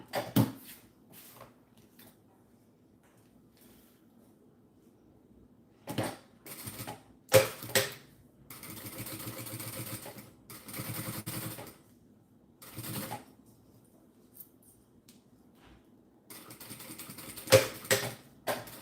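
A sewing machine stitches a handle onto a zipper pouch made from fabric scraps, in several short, quiet bursts of rapid mechanical whirring separated by pauses.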